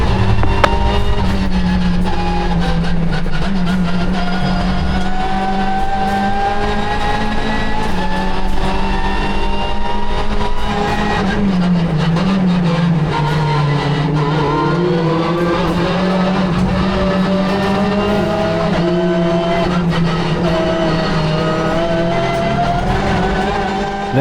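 Several IMSA race cars, GS class among them, roar continuously on the front straight at a race start, with loud, layered engine notes rising and shifting in pitch as they accelerate close by.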